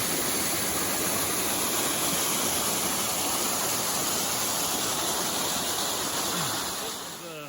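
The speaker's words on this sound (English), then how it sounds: "good video of the waterfall though" A waterfall on a creek roars as a steady, loud, broadband rush of falling water, constant throughout with no voices over it.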